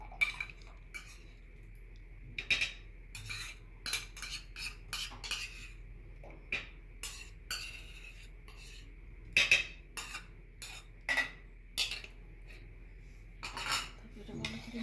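A spoon whisks sweet yogurt in a bowl, quiet scattered clinks and scrapes of metal against the dish coming in irregular bursts over a hushed background.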